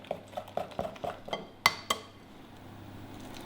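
Farm egg yolks stirred into a mixture in a bowl for a gluten-free lemon brownie slice, with a spoon tapping and scraping the bowl in a quick run of clinks, then two sharper knocks, all close and without talk.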